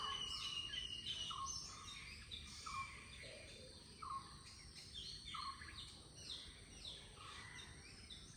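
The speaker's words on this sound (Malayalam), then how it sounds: "കിളികളുടെ ശബ്ദം കേൾപ്പിച്ചാൽ" Birds sing outdoors with repeated short chirps and whistles at a moderate distance, over a faint, steady background hum of insects.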